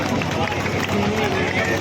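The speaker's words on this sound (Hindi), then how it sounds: "ताली मारते रहो" Crowd at a village honour ceremony in Biholi applauding continuously for a man being presented a silver crown and mace, a dense steady wash of clapping and cheering voices throughout.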